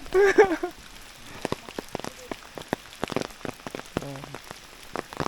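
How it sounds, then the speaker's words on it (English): Rain drops tapping on a surface in an irregular patter in a tropical rainforest in the Cameron Highlands, after a brief burst of voices at the start, with a faint hum midway. "It is raining now."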